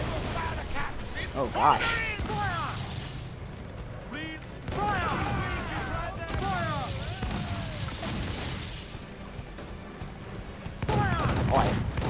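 Naval cannon fire and booming impacts in Assassin's Creed IV Black Flag on Xbox One, a ship battle with repeated heavy blasts and rumbling volleys throughout, while a player talks over the action.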